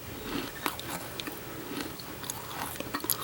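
Crunchy kastengel cheese cookies being bitten and chewed up close, with crisp crunches and soft crackles repeating in an uneven rhythm, and no talk.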